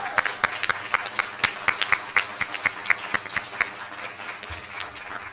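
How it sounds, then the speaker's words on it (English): A school board meeting audience gives a round of applause for the first cheer team at Bonsall High School, heard as sparse, evenly spaced claps that stay faint and thin. "Let's give that a round of applause."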